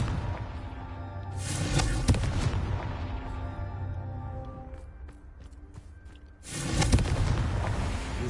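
A fiery blasting spell detonates in a wizarding video game, two heavy, booming bursts a few seconds apart, each rolling into a long rumbling tail loud and up front with no speech.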